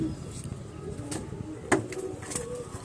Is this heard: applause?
no